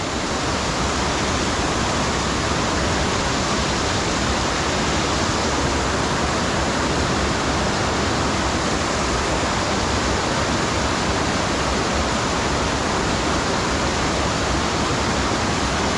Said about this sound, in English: It is quite a nice waterfall,